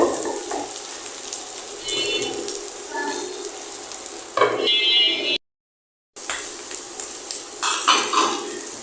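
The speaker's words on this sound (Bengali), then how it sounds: "এটা কন্টিনিউ ঢাকনা দিয়ে ঢেকে আমি ভেজে নেব।" Onions fry in a pan for a loitta dried-fish bhuna, with steady sizzling and repeated scraping and clinking of a spatula as they are stirred, broken by a brief silent gap before the stirring resumes.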